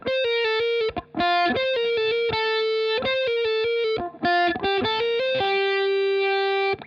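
A distorted electric guitar plays a quick riff of picked notes, with brief gaps, ending on a long sustained ringing note.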